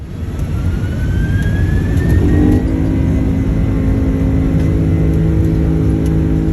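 Airliner engines roar loudly and steadily from inside the cabin while taxiing toward takeoff, a constant heavy rumble with a rising whine layered on top and no voices.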